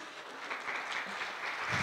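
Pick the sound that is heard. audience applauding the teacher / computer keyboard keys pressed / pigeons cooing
audience applauding the teacher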